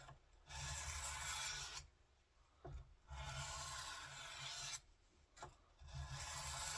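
A kitchen knife is sharpened on a coarse sharpening stone with long, gritty rasping strokes, several passes separated by brief pauses, close and steady with no talk.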